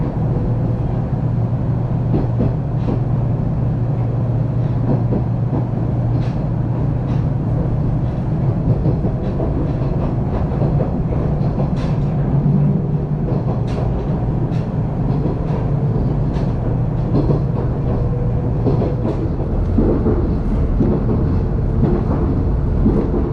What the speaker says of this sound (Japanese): 2つしかない急行型電車同士が行き違う。